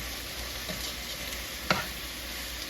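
Loaded cabbage soup in a pot gives a continuous low bubbling hiss while it is stirred, with one sharp clink of the utensil partway through.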